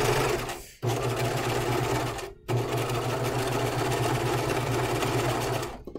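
A serger sewing machine stitches a seam on a hanten mockup, running loud and close with a steady droning whir and two brief stops before it starts again.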